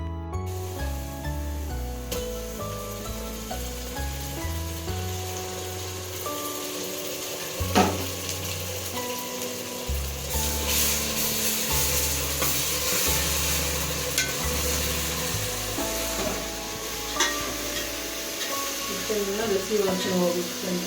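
Mint masala paste for chicken biryani sizzles and fries in a pan, with continuous spitting hiss and occasional stirring scrapes, while music and a voice play over it.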